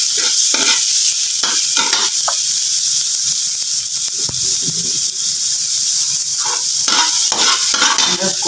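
Onion fries in a little oil for chicken adobo with coconut milk, a loud constant hissing sizzle from up close, broken by repeated scraping stirs of a utensil against the pan, with no talking.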